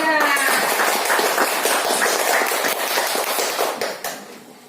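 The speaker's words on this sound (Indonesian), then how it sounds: "Ya, tepuk tangan untuk kelompok 3." Classroom applause for a group of students: a burst of many hands clapping, dense and close, fading out after about four seconds.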